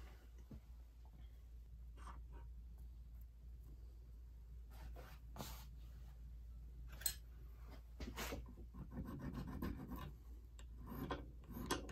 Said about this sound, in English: I'm gonna file these up square at the very least